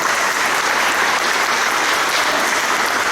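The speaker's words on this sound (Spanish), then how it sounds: "Un aplauso al Señor." A congregation applauds during a church sermon in a steady, dense, loud wash of clapping with no break.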